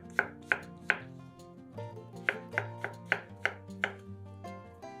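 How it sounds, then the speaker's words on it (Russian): A knife slices champignon mushrooms into thin pieces on a board, about a dozen crisp, evenly paced cuts close up, with a faint hum underneath and no talking. "300 грамм шампиньонов моем, разрезаем пополам и нарезаем пластинками."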